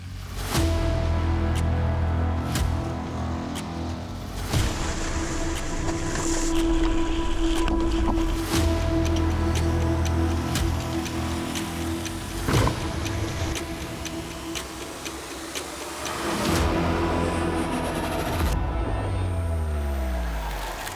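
An MG Gloster SUV with a ladder-frame chassis drives off-road through mud. Its engine drones steadily throughout, with scattered ticks, knocks and clunks from the bodywork, and no one speaks.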